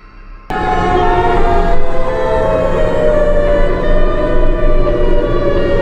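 A loud, sustained wailing siren blares out abruptly and drones on steadily, harsh and droning like a monster's call: the Siren Head monster's voice from a video game.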